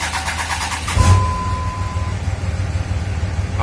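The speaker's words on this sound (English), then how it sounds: "I'm thinking that's starter motor because that was kind of hesitant, kind of slow." A 5.9 Cummins diesel with a slow, hesitant starter motor cranks briefly, then catches and settles into a loud, close, steady idle rumble.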